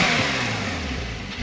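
Porsche 911 Targa (2021) with sport exhaust revving, a steady, continuous mid-pitched engine drone with a slight rise in pitch, heard alone without talk.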